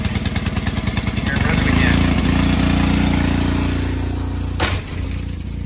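A small engine idles steadily after its carburetor was cleaned, a loud continuous mechanical chug throughout with a brief sharp clatter near the end.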